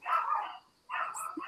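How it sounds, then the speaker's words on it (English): Several dogs bark at home as someone comes to the door, two muffled bursts of barking separated by a short pause, moderately near with no talk. "Sorry about my dogs."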